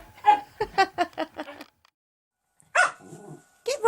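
Two bursts of sharp dog-like barks, a quick series of five or six yips followed by a pause and then two more, loud and close; the rhythm and pitch suggest a person imitating a dog rather than a real animal.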